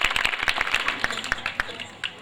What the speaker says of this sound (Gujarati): એમના માટે જોરદાર તાળીના ગણગડાટ